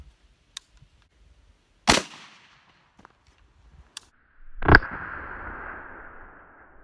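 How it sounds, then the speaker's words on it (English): Two sharp, loud shots from a 300 Blackout rifle, spaced a few seconds apart amid quiet clicks and handling noises; the second crack rings out with a long fading tail. "Now I'll shoot it with the 300 blackout."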